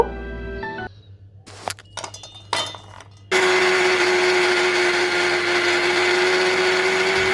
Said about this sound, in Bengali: বিস্কুটগুলো মিক্সিতে গুঁড়ো করে নিয়েছি খুব ভালো করে গুঁড়ো করে নিয়েছি